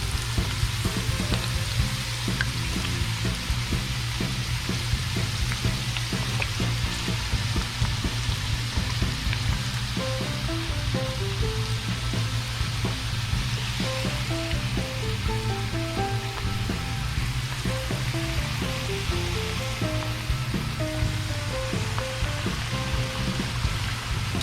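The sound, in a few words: fries frying in oil in a pan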